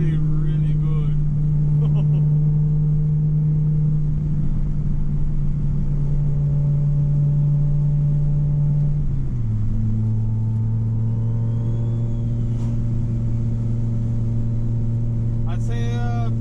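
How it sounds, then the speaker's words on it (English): Audi UrS4 with a 20-valve turbo engine spinning its front tires on a wet road, a loud sustained engine drone that drops in pitch midway and continues steadily throughout. "It's a little wet outside, so she's spinning the front tires pretty good."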